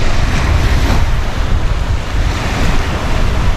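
Sea waves wash steadily along a white sandy beach, with strong wind buffeting the microphone and a loud, continuous low roar throughout.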